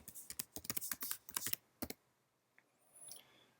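Fast typing on a computer keyboard while entering assessment data, a close, quick run of key clicks that stops abruptly, leaving a few faint taps.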